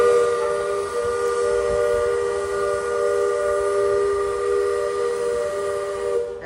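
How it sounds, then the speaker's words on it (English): Steam train whistle at Magic Kingdom, a loud, sustained multi-tone blast held steadily for several seconds with no talking over it. "That horn, steam horn is louder than me."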